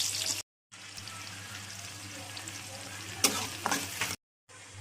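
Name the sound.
onion frying in a pan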